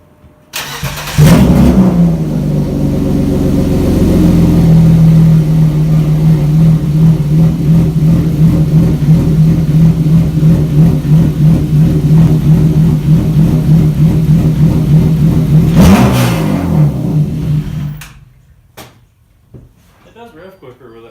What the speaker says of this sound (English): this is what it sounds like with no exhaust whatsoever through an iPhone mic.